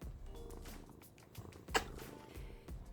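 A pet cat purrs softly in a home, a low continuous rumble running steadily through the moment with a brief sharper sound partway through.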